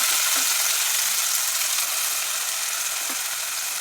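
Green gram and raw plantain chunks tipped into a hot pan and stirred, giving a steady close sizzle and fry with a few soft scraping stir strokes, no voices.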